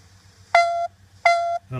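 A Star Trek communicator beep ringtone sounds from a phone as two loud, near, identical chirps about a third of a second each with a short gap between them. A voice begins just as the second chirp ends.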